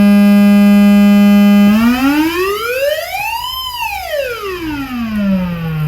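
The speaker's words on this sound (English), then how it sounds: "it makes a really cool siren effect" A steady synthesizer tone suddenly sweeps upward into a rising and falling siren wail, loud and harmonically rich, then glides back down.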